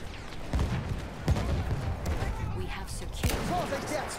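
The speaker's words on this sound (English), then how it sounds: "That nade almost killed me" A grenade goes off in Battlefield 1 amid other game gunfire, a short thump heard under ongoing background battle noise with a couple of sharp impacts spread across the moment.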